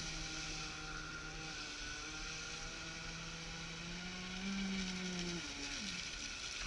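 A Navicraft Rebel 12s boat running on its original combustion engine, a steady droning motor whine with a constant hum that rises and wavers slightly in pitch near the end, heard alone on the water.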